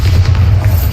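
A Bombarda spell explosion in Hogwarts Legacy, a single loud, deep, close boom that fills the whole brief moment.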